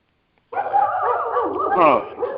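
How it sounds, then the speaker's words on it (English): Dogs yip, whine and bark in a continuous, agitated stretch that starts abruptly and stays loud and close for about two seconds, with no talk over it. "There's dogs barking and shit."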